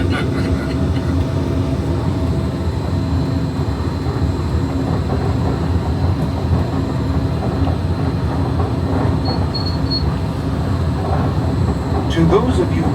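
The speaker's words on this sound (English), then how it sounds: "welcome aboard the Disneyland Monorail." The Disneyland Monorail runs along its track with a loud, steady rumbling roar and faint rhythmic clatter heard from inside the cab, continuous throughout, with a brief high chime near the end.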